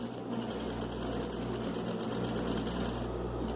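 A sewing machine runs continuously, stitching over an earlier seam to close an embedded fabric pocket, a steady close whirring with fast, even needle clatter throughout.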